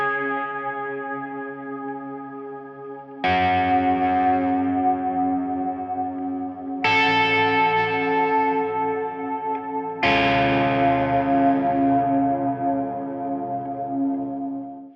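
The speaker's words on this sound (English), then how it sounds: "when you put those delay and reverbs on, suddenly you've got this world of texture" Ambient electric guitar swells washed in delay and reverb, with sustained chords struck roughly every three to four seconds and each one blooming into a long, shimmering, echoing tail. Loud and close, with no talking.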